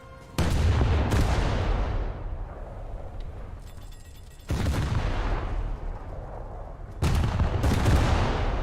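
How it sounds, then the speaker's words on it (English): Naval automatic gunfire from 5-inch or 8-inch guns in a video game: three heavy booming bursts a few seconds apart, each a sharp loud onset followed by a long rumbling decay, close and dominant. "5-inch or 8-inch automatic guns"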